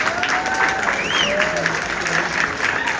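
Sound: audience applause after Q&A

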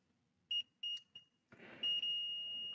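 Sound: multimeter continuity beep testing a fuse

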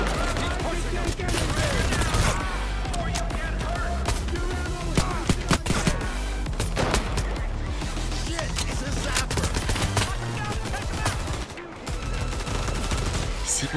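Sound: sniper gunfire in the video game Payday 3

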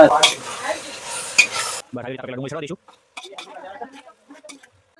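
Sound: onions frying for paneer gravy

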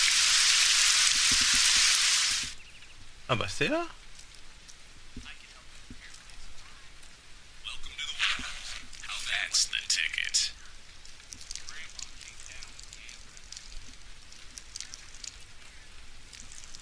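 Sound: rain falling in video game Postal 2 Paradise Lost

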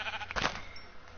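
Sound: sheep bleating in the video game Minecraft

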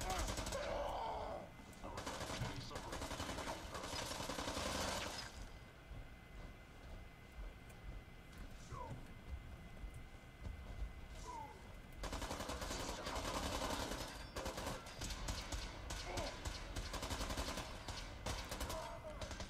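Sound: gunfire as synths fight super mutants, Fallout 4 video game

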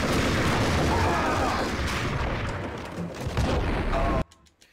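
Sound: grenade explosions in video game Max Payne

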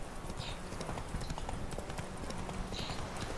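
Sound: horse galloping in a video game

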